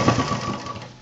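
A sewing machine runs steadily, stitching fabric for a medium-size homemade tour bag, a continuous mechanical whir held at an even level for about a second with no talking.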